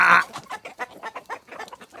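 A young Whiting True Blue chicken among a laying flock gives a loud squawk, then a run of soft, rapid clucks at close range, with no talk over it.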